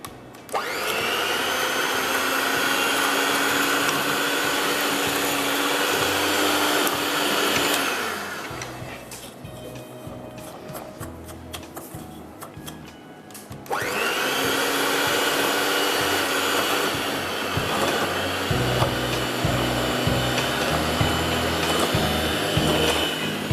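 An electric mixer beats butter, caster sugar and vanilla into a creamy cake batter for an orange drizzle cake, a steady loud whir that dips to a lower, quieter pitch midway before returning to full speed, with no talk.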